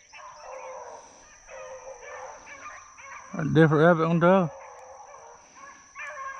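Dogs bay and bark in a short burst while running a rabbit among pine trees, loud and close for about a second, with people talking before and after.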